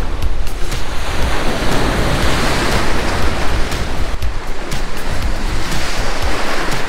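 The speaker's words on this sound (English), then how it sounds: "Big wave." Surf breaking on a Gulf of Mexico beach at Gulf Shores, a loud continuous wash of crashing waves with wind buffeting the microphone throughout.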